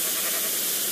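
A pink sheep in Minecraft gives one short, loud bleat that fills the whole moment, harsh and noisy in tone, with no talking over it.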